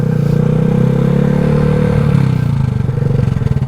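A Honda Grom motorcycle engine revs loud and close, holding a steady buzzing drone before the pitch drops and the engine falls to a rougher, pulsing idle.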